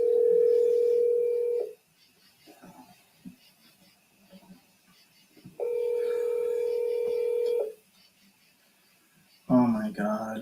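A telephone handset gives a steady dial tone that stops, followed by a few faint dialing clicks, then a second long stretch of dial tone, with a brief burst of indoor noise at the very end.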